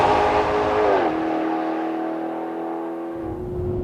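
Maserati GranTurismo engine (2013) revving under hard acceleration, a loud sustained tone that rises and then settles into a steady high drone at close range, with no talk.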